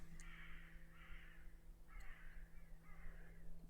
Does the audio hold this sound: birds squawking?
yes